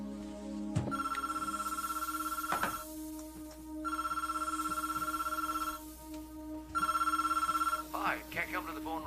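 A telephone rings in three long electronic bursts separated by pauses, loud and close indoors, with brief rustling and movement between rings and no talk.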